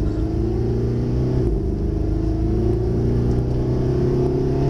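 Mercedes SLS AMG V8 engine rumbling under braking, a steady deep drone with a low burble and a slight shift in pitch partway through, loud and close, with no one talking over it.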